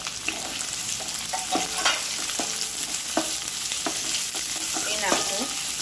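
Long-sliced dried onions dropped onto sautéed garlic in a hot pan for veg hakka noodles, a continuous sizzle with scattered spatula clicks and stirring scrapes, no voices.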